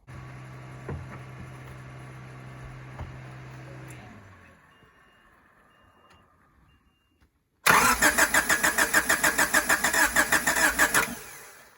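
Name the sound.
car engine cranking and starting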